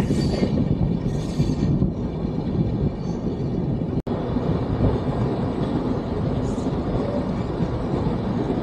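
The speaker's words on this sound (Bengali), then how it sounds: "ট্রেনটি আমাদের ছুটে চলেছে।" Kamakhya Capital Express passenger train running on rails between Siliguri and Kamakhya, a steady loud rumble of wheels and carriage noise throughout with a brief dropout midway, heard from inside a coach.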